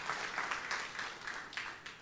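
Church congregation applauding, a brief spread of mixed clapping, fairly faint and distant-sounding, with a faint voice underneath.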